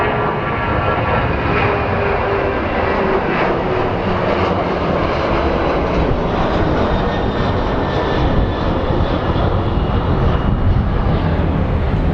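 Airliner engine roar at Phoenix Sky Harbor airport, a loud, steady broadband rumble and whine that holds for the whole stretch with no talk over it.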